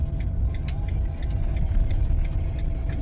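A car engine running on a road near a campsite on the island of Pag, Croatia, a low steady rumble heard from inside a moving vehicle, constant and close with no talk.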